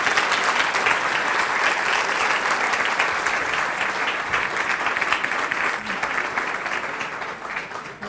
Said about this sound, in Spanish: Entonces, un aplauso para Vladimir y Nicolás.